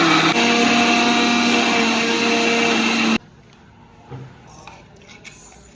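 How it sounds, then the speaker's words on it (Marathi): A mixer grinder whirs loudly while blending chocolate, a steady high motor drone for about three seconds that cuts off abruptly, followed by faint clinks and handling noises. "आता मी हे चॉकलेट मिक्सरच्या भांड्यात घालते."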